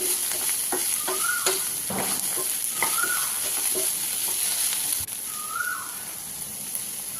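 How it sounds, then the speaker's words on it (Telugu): Inch-long cut okra pieces frying in hot oil in a pan for a tangy mango tamarind stew, a steady close sizzle with occasional stirring scrapes and no talking. "బెండకాయని కాసేపు వేయించుకుంటే బెండకాయల్లో ఉన్న జిగురు"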